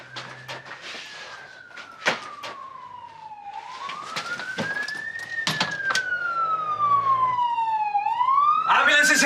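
A wailing ambulance siren sweeps slowly up and down in pitch, growing louder as it approaches, with scattered voices and clatter underneath.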